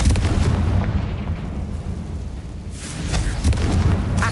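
Explosion spells cast in the Hogwarts Legacy video game, a dense run of booming blasts with several sharper bursts near the end, loud and continuous with no talk.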